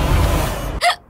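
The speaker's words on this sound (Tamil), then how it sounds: "கங்காக்கு விக்கல் எடுக்குது," A single sharp hiccup from a woman in a Tamil TV serial scene, short and close, following a stretch of muffled background sound.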